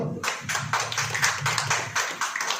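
An audience claps together in a steady, quick rhythm. The claps are loud, close and evenly spaced, with no talking over them.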